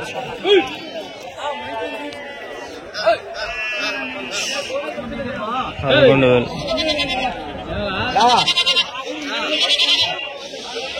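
Goats and sheep at a weekly livestock market bleat repeatedly, several calls near and loud, while people talk and bargain over them throughout.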